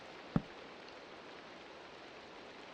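Steady, soft hiss of rain falling in the Minecraft video game, an even wash of noise with a single sharp click near the start.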